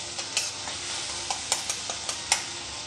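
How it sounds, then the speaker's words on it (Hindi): Tomatoes cook in a pan on medium flame for Uttarakhandi bhatwani, with a continuous close sizzle and intermittent scraping clicks from stirring. "थोड़ी देर तक टमाटर को पकने दूँगी मैं।"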